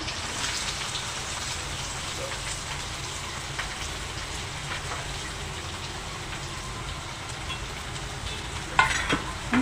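Onion with curry leaves and green chilli frying in hot oil, a dense continuous crackling sizzle like steady rain, close and even throughout, with a brief clatter near the end and no speech.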